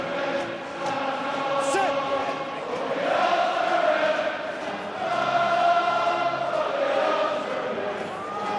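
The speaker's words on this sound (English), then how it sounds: "Crowd giving their full backing here to Ulster" A rugby stadium crowd roars in support of Ulster during a match against Glasgow, a broad continuous swell rising and falling, with commentators talking over it.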